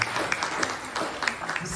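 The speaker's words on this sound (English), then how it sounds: "Give yourself a round of applause." Audience applause at a golf tournament gathering, a short burst of scattered hand claps from a modest crowd, fairly close and steady, with no talking over it.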